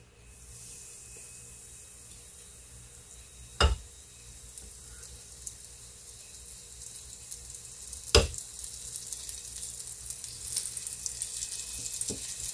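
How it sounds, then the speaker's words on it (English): Food frying in a hot pan gives a steady hiss of sizzling that slowly grows more crackly, with two sharp clanks of cookware, heard alone without talk. "Yep, it's sizzling."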